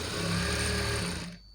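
A sewing machine runs in one steady, close burst while top-stitching a Punjabi dress pant, its motor humming evenly before cutting off just short of the end.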